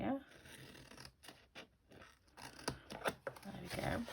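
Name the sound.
cutting card stock for a gift bag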